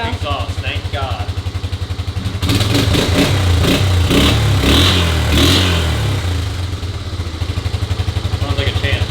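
A 1985 Honda Big Red 250ES engine idles with a steady, quiet putter, then revs up in a loud burst of throttle before settling back to a rhythmic idle. Voices can be heard briefly near the start.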